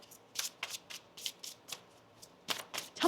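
Tarot cards being shuffled close by, quiet riffling bursts in a loose rhythm of about eight short strokes with brief pauses, no talking.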